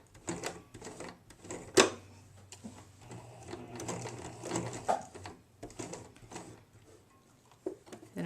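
A sewing machine stitches a zipper onto a fabric coin purse, its motor whirring in short runs of rapid needle chatter with pauses and a sharp click near the start, fairly close and alone without talk.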